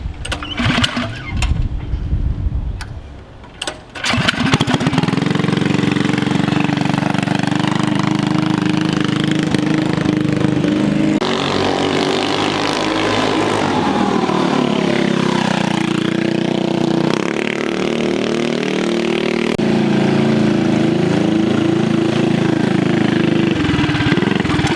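A Predator 212 engine on a Monster Moto minibike with racing upgrades sputters briefly, then catches and runs at a loud, steady idle up close, with the pitch rising and falling a few times as the throttle is blipped.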